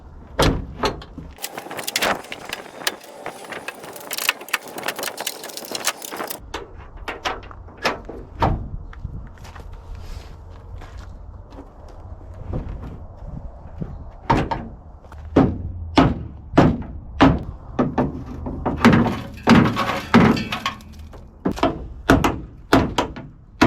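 A Chevrolet Silverado pickup's tailgate handled up close, with a burst of metallic rattling followed by a string of loud, irregular thunks and knocks as it is moved and fitted, and no talking.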